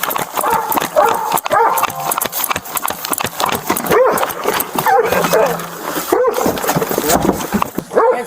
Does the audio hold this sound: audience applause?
no